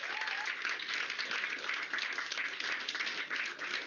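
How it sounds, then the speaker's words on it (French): An audience at a film event applauds continuously for a filmmaker, a fairly faint, even patter of many hands clapping that holds steady for several seconds. "je vous demande d'applaudir Xavier Dolan, réalisateur, interprète, producteur de cinéma."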